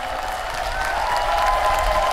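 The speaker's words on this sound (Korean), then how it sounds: "박수를 많이 치면 칠수록" Crowd clapping at a special concert during the 2021 Hamyang wild ginseng expo, a brief, steady burst of applause from a large audience, with a faint background tone.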